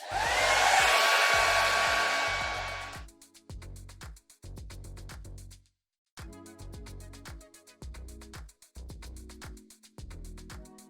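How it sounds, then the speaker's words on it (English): A handheld hair dryer blows on a wig being installed over very short natural hair, a loud close whoosh at first, then cut into short on-off bursts with brief pauses between them and no talk. "I'm gonna blow dry it now so it stays in place before I do the other half."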